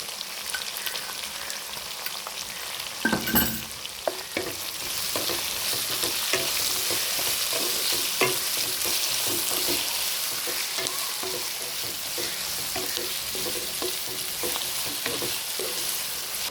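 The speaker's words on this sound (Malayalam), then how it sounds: "തേങ്ങാക്കൊത്തും കൊച്ചുള്ളിയും വെളുത്തുള്ളിയും എല്ലാം കൂടെ വഴണ്ടിട്ടുണ്ട്" Crushed coconut pieces, shallots and garlic frying in a pan for a Kerala-style country chicken curry, a steady close sizzle broken by scraping stirs and occasional clanks of a utensil.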